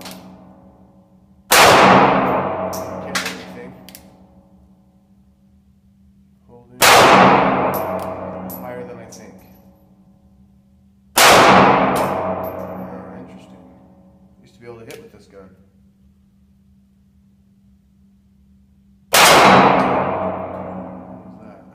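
Four loud, widely spaced shots from a Ruger LCP pistol firing Hornady Critical Defense rounds at steel, each blast trailing into a ringing metallic decay, with a small extra knock between the third and fourth.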